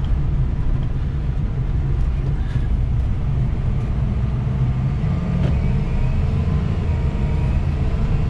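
A 2005 Ford F350 King Ranch 4x4 diesel pickup accelerates toward a speed bump, its deep engine drone and road rumble loud and steady from inside the cab.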